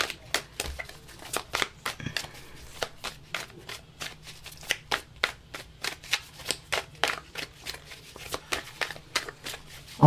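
Tarot cards riffled and pulled from a deck in a steady run of crisp, close snaps and flicks, mostly alone with no voice.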